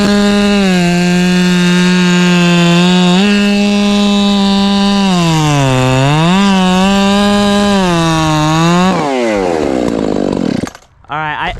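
A chainsaw whose chain has had cutter teeth removed, down to 34 cutters, cuts through wood with a loud, steady high whine that dips and rises with load, then cuts off abruptly near the end.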